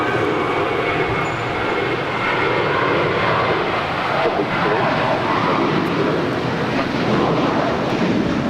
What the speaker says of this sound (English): up next, JetBlue Airways Flight 888 heading to Boston. It's an A321.